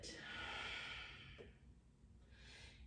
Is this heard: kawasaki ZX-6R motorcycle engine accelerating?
no